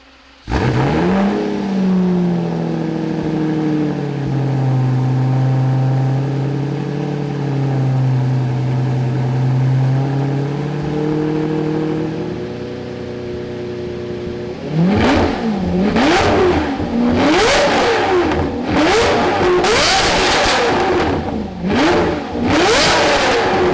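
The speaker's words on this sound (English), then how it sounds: "You guys didn't hear the orange Lambo start." An orange Lamborghini engine cranks and fires, settles into a wavering idle, then roars through a series of sharp, loud revs, each rising and falling close by.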